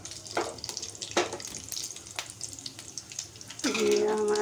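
Cumin seeds crackle and sizzle in hot oil in a home kitchen, a steady frying hiss with a few sharp pops, then a louder, fuller burst of sizzling near the end.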